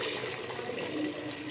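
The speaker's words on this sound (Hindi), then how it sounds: "हम इसमें डालते हैं पानी।" Water pours into a pot of browned chicken for yakhni soup, a steady, dense rushing splash close to the microphone without any talk.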